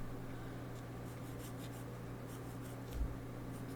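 Pen drawing fish scales on paper, soft faint scratching strokes in short repeated bursts over a steady low hum, close and quiet.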